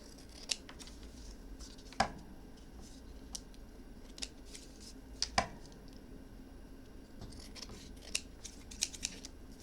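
Scissors snipping to trim the lid of a small paper gift box, a scatter of sharp, close, crisp cuts at irregular intervals over a quiet background.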